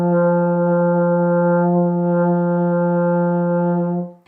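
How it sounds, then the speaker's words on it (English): A euphonium sounds a single open F with no valves pressed, a steady, loud, warm brass tone held for about four seconds before fading out. "F is an open note, which means we're not going to press down any of our valves."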